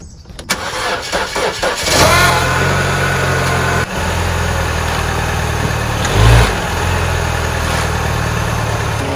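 A car with a dead battery, just unloaded from a trailer, cranks briefly on a jump start, catches and settles into a steady close idle with a short rev partway through.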